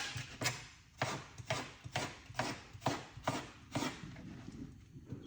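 A knife chops through a cucumber on a cutting board while a detox drink is prepared, with about eight evenly spaced, crisp chops close by and no talking.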